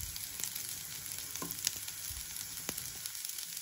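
Green chillies with curry leaves frying in hot oil, a continuous thin crackling sizzle with a few brief pops and scrapes, moderately quiet and close, no voices.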